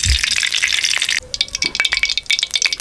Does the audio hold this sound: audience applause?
no